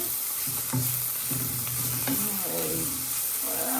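Boiled cabbage leaves fry in hot oil with a steady, close sizzle, broken by several soft stirring scrapes and a few light clicks of a utensil against the pan.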